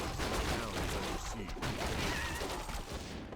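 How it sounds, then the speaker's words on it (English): Mortar shots and battle effects crash repeatedly through a Warcraft III match between Night Elf and Human armies, dense and continuous with a busy bed of game noise throughout. "So big against the mortar shots."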